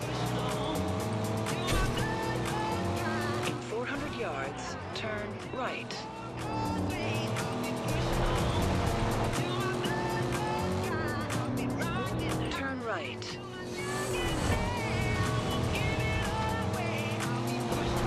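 Car racing through speed traps in the Forza Horizon 2 video game: a revving engine roars steadily with tire squeals and skids, mixed with game music while a voice talks over it.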